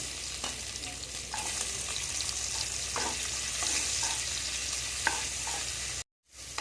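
Chopped onion frying in mustard oil with tempering spices: a steady, close hiss of sizzling with occasional stirring scrapes, running continuously before cutting off abruptly near the end.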